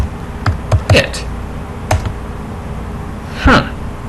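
Someone types the word exit on a computer keyboard at a Linux command line: a few sharp, close key taps in short bursts, with speech in between.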